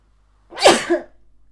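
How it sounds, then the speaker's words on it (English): One sharp sneeze bursts out close to the microphone after a moment of near silence. "I think I need to sneeze."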